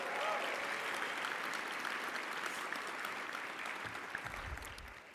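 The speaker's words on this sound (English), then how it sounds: "we love the clapping and the cheering here" Audience applause at the SIGGRAPH 2024 Real-Time Live! event, a dense, steady wash of clapping from a large crowd that gradually thins and fades toward the end.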